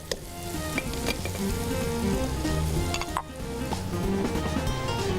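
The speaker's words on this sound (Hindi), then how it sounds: "इसके नरम होने तक इसे फ्राई करूँगी" Onions fry in a pan with a dense, continuous close sizzle, steady and fairly loud, with a few sharper crackles and spatters and no voices.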